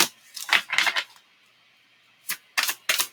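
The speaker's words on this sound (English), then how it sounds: "Let me just shuffle it again." A deck of tarot cards being shuffled close by, two short bursts of crisp riffling and slapping separated by a quiet pause, with the last bursts coming in quick succession.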